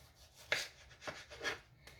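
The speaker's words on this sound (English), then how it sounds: "So you go on and slice your tomatoes like this" A knife slices through tomatoes on a board, four quiet separate cuts spaced roughly half a second apart, close and soft with nothing else heard.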